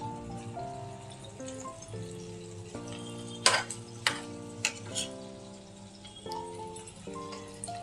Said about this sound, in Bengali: রসুনগুলো দিয়ে হালকা একটু আমি রসুনটা ভেজে নিচ্ছি এই বাটারের মধ্যেই।